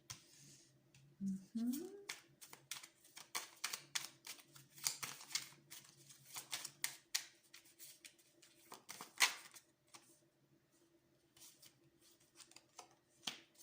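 A deck of tarot cards being shuffled by hand, with soft riffling and slapping bursts spread through the stretch, faint and close, while a person speaks quietly over part of it.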